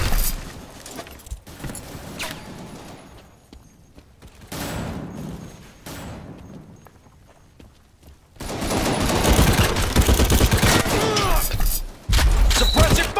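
Bursts of gunfire, rapid machine-gun rattles and thumps in the World War Heroes war video game, moderate at first with quieter gaps, then a loud sustained barrage near the end.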